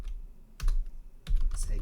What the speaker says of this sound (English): we're going to type sudo